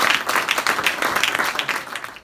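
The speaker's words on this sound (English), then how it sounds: "A big massive round of applause, please, for Matt Windle" Audience applause for poet Matt Windle at an anti-racism rally, a brief, lively burst of many hands clapping together, close and fairly loud, tapering slightly as it ends.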